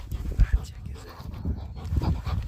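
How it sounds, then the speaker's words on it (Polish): A dog panting hard during play, with rough, breathy puffs and a few heavier bursts close to the microphone, and faint handling noise underneath. "Dobry pies."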